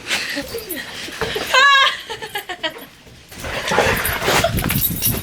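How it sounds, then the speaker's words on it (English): A dog gives a short series of high whining yelps amid excited human voices and laughter, then people keep talking loudly. "So you just met Cody, that's our dog."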